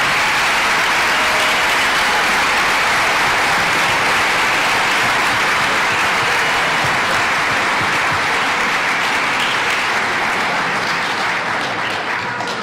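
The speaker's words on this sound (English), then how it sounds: "So a round of applause for John." Sustained audience applause at an athletic awards ceremony, a steady wash of many hands clapping for about twelve seconds, loud and even throughout.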